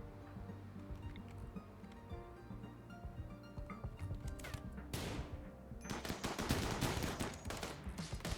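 Heavy SMG gunfire in the RimWorld video game, with rapid rattling bursts of shots and clatter over background game music, growing denser and louder toward the end.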